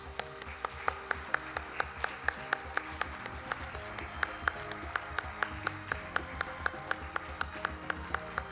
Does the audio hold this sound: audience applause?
yes